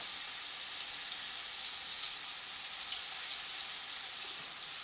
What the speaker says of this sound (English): now just kind of let them fry a little bit